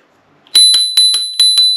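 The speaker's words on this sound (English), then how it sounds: "So it's got a bell" Bell on an iScooter i9 Max electric scooter rung three times in quick succession, loud and close, each bright metallic ring decaying briefly before the next, alone with no talk.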